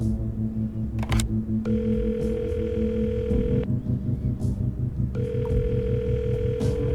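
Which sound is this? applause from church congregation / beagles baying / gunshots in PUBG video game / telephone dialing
telephone dialing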